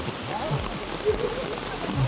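Hail falls outdoors in Copenhagen, a dense, steady patter and hiss across surfaces, with voices talking over it.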